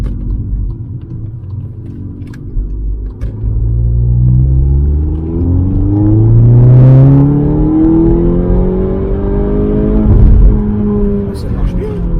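Seat Ibiza Cupra accelerating hard from inside the cabin, its engine rising through rev sweeps with a brief dip between gears, a loud near drone with turbo whoosh, while someone talks over it.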